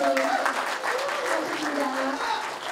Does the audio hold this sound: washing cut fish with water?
no